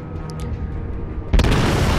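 A forward-gun salvo from the Wyoming battleship in World of Warships erupts as one heavy, booming blast after a quiet lead-in, with a rumbling tail that lingers to the end.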